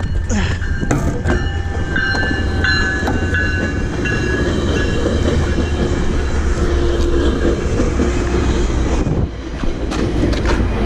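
A train runs past close by with a loud, continuous rumble and rattling wheel clatter that fill the whole stretch, ending in a brief drop.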